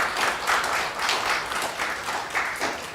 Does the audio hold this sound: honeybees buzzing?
no